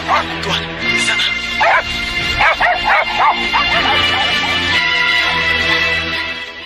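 A pack of hunting dogs barks and yips excitedly in rapid overlapping bursts, loud and close, with some whimpering mixed in and a voice speaking over the din.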